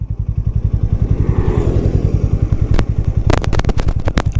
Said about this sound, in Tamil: எக்ஸாஸ்ட் நோட் வந்து பீட்ஃபுல்லாக இருக்குது, சும்மா அதிருது அப்படின்னு தான் சொல்லணும்